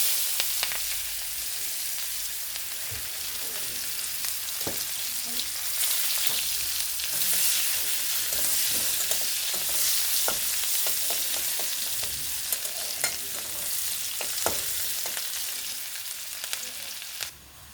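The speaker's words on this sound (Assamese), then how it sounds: "মাছ ভজা তেলখিনিতে এড কৰিম পিঁয়াজ, সৰু সৰুকৈ কাটি লোৱা পিঁয়াজ।" Finely chopped onions fry in oil left over from frying fish, a continuous soft crackling sizzle with occasional sharper pops and stirring scrapes, fairly quiet and close, with no voices.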